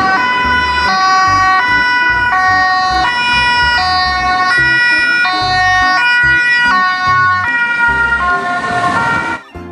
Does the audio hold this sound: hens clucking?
no